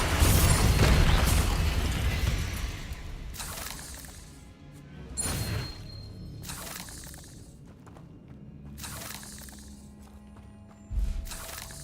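Bombarda and Confringo spells explode in the game Hogwarts Legacy, a series of booming blasts with shattering, crackling debris, the first long and loud, later ones spaced a few seconds apart and fading over a quieter ambient bed.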